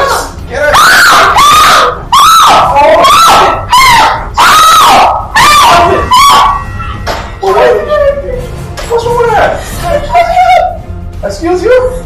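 In a Ghanaian Kumawood drama, a woman screams loudly in repeated piercing bursts, followed by shorter shrieks and cries that taper off toward the end.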